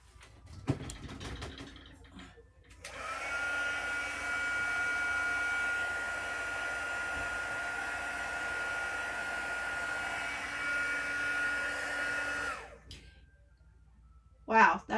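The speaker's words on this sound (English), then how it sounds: "then I take my heat gun" A handheld heat gun blowing hot air to dry a craft piece, a steady loud whooshing roar that runs for about ten seconds before cutting off, with brief handling noises before and after.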